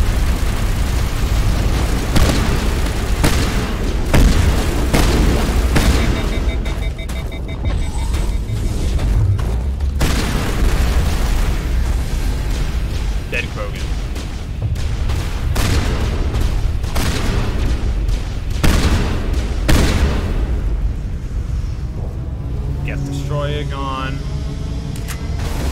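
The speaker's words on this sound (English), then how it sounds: "I love how this shotgun just absolutely rips through everything." Shotgun fire in the Mass Effect video game, a series of loud, close booming blasts spaced irregularly through a battle, with heavy rumbling effects and scattered voices between shots.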